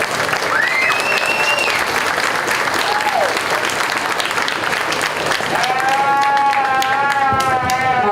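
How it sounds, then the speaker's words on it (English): Crowd applause for lamb show exhibitors at the 2022 Mason County Fair, loud continuous clapping from the stands with scattered whistles and shouts cutting through, lasting over eight seconds. "Let's give these exhibitors a round of applause."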